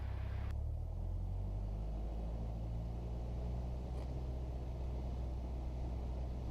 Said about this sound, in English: Throttle RPM to 1800 and holding the brakes.